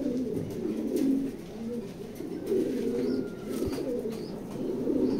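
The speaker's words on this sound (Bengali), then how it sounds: "তো আর দেরি না করে কবুতরগুলো আমি দেখাবো ইনশাল্লাহ" Pigeons coo steadily inside a pigeon loft, several birds overlapping in low, rolling murmurs that swell and fade without pause, with a faint higher chirp now and then.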